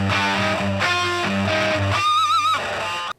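A heavily distorted guitar runs through a chain of fuzz pedals, including an Earthquaker Bose and a Dirty Boost, into a Mesa amp. It chugs saturated, sustained chords, then ends on a wobbling, modulated high note before cutting off.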